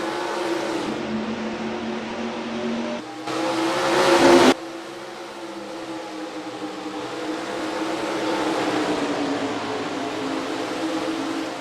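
Race cars in the NASCAR Racing 2003 video game roar off at the green flag at Iowa, a loud sustained engine drone with rising pitch and one brief harsher burst.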